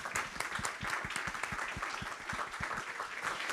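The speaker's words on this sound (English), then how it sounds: "I think we need an applause" Audience applause at a business conference panel in Madrid, a steady rapid patter of many hands clapping throughout, fairly distant and even in loudness.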